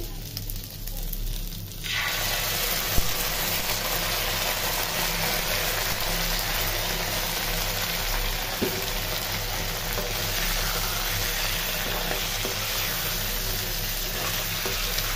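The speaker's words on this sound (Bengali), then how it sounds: "এই সসটা আমি ঢেলে দিব।" Loud, steady sizzling starts abruptly after a couple of seconds as sauce is poured over fried chicken in a pan, keeping up a dense frying hiss, close by, with faint clinks underneath.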